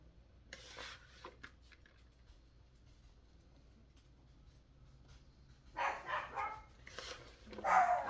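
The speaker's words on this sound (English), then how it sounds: "Mind the dogs. Someone must be outside my house." Dogs bark outside a house in bursts, loudest toward the end, over faint kitchen clatter of dishes and utensils with no speech.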